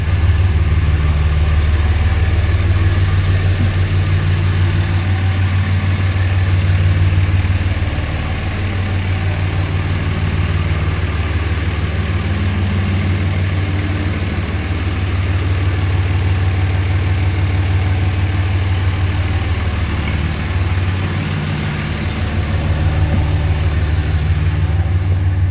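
A 2006 Dodge Ram 2500 with a 5.9-liter Cummins turbo diesel idles steadily nearby, giving a deep, constant rumble with a lumpy low throb, no voices over it and only a slight dip in level partway through.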